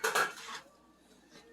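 A metal pot lid clatters and rings against a sink, then fades to a soft resonant hum before a brief clink at the end.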